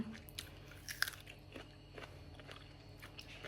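Crunchy sweet snack bitten and chewed close up, a sharp crisp bite followed by softer repeated crunching over a faint background hum.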